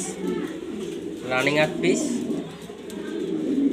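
Beauty homer pigeons, about eight birds kept for sale, coo softly in a loft while a voice talks over them throughout.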